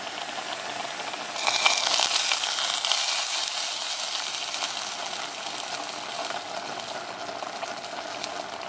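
Fried onions are tipped into a pot of cumin-flavoured rice soup (jeeraka kanji), giving a bright steady sizzle and bubbling hiss that swells briefly and then settles into a continuous fizz.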